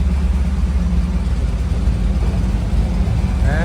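A 1970 GMC C2500 truck engine runs steadily just after starting, a loud, close, even low rumble that holds without pause.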